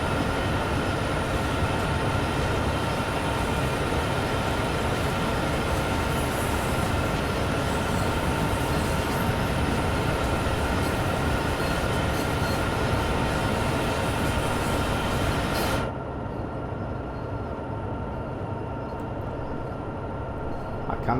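Train running in Train Sim World 2 on the Sherman Hill route, a loud steady rumble of wheels and engine drone held for the whole stretch, the higher hiss dropping away near the end.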